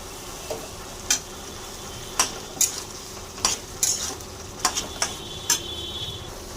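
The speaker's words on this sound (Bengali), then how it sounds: "এবার মশলা ভালো করে কষে নেব।" Spices with salt, turmeric, cumin and coriander frying in a pan with potatoes, a soft sizzle under repeated sharp clinks of a spoon scraping and stirring, about nine irregular taps, close and alone.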